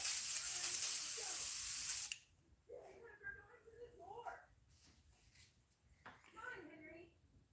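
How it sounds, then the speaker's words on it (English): An airbrush sprays paint onto a jointed musky crankbait in a loud, steady hiss lasting about two seconds before cutting off, after which a person talks. "I just clogged up the airbrush"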